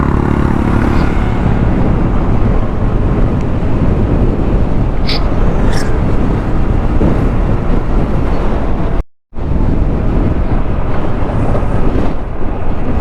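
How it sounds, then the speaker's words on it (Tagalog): Strong wind buffets the microphone continuously while riding a motorcycle loaded with a rear box, a dense, loud roar with gusting and one brief dropout near the end. "Lakas ng hangin, gumagalaw talaga yung motor pag binugso tayo ng ihip"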